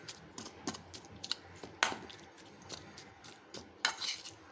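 A chilli mixture for Noakhali-style morich khola is kneaded by hand in a bowl, giving close, quiet, irregular wet clicks and taps with a few sharper knocks and no voices.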